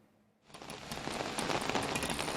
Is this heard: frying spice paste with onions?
no